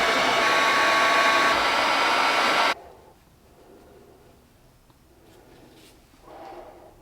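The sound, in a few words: heat gun heating a plastic tube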